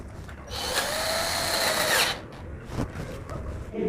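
A budget cordless drill runs steadily for about a second and a half as it tightens a small nut back in place, a loud whirring motor that stops abruptly, followed by faint handling clicks.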